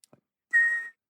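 A single sustained whistled tone imitates a ringing bell, held steady for under half a second after a couple of faint clicks, close and fairly loud, with a slight breathy hiss around the pitch.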